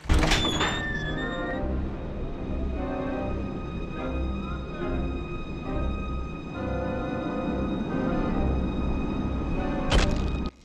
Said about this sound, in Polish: Otwieraj te wielkie drzwi.